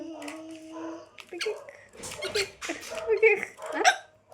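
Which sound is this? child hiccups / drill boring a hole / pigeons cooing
child hiccups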